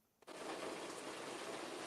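Heavy rain pours down in a steady hiss that starts abruptly after a short quiet moment and keeps on at an even level.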